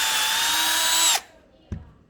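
A power drill whines steadily while a tap drill bit bores and threads into plastic, close and loud. The motor then cuts off abruptly, and a single short knock follows.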